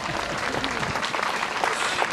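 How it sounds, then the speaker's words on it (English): A crowd at a South Wales Mounted Police show, part of a festival of Welsh ponies and cobs, cheers and claps for PC Rick Lewis's birthday in a dense, steady wash of applause that holds for about two seconds. "let's give him a cheer"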